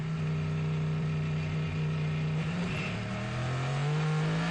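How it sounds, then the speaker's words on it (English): Cadillac hypercar V8 engine accelerating out of a pit stop at a WEC race at COTA, a loud steady droning roar with a slowly rising pitch that fills the whole stretch. "that beautiful V8 engine."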